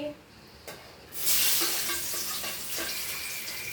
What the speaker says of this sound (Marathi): तेल टाकवल्यानंतर छान गरम असं तेल झालेलं आहे आता टाकून घेते मी इथे कांदे